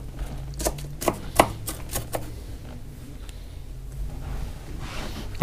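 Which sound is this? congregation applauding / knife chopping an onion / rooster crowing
knife chopping an onion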